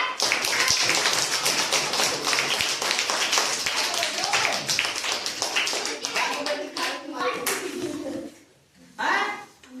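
Group at a fire safety demonstration claps together, sharp close hand claps in a dense burst that thins out and stops near the end, followed by a short spoken voice.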